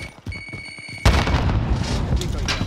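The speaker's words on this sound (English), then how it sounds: "Grenade out!" A grenade explodes in a first-person shooter video game, a sudden loud boom about a second in that leaves a sustained rumbling roar, following some brief game sounds and tones.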